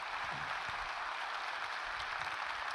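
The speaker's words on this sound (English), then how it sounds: "let's give Moxie a round of applause" Steady applause from a conference keynote audience fills the whole stretch, a dense even wash of clapping with no pauses.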